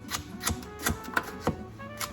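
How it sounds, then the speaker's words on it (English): A knife rough-chops vegetables for a rotisserie chicken soup, about seven crisp, separate cuts landing at an uneven, unhurried pace, close and fairly quiet, with no talking. "I am just rough chopping these vegetables"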